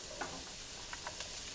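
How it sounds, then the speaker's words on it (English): Diced onion sizzling in avocado oil in a large heated skillet: a soft, steady frying hiss with a few faint stirring clicks scattered through it, quiet and close. "I'm adding one large diced onion to a large skillet that I've heated up with"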